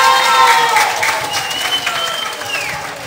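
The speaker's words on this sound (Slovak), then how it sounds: "Ešte jeden potlesk!" Applause for the musicians and choir singers of the Blessed Zefirin choir from Bardejov at the Roma pilgrimage in Gaboltov, a steady wash of many hands clapping at moderate loudness with a faint whistled or sung tone threading through.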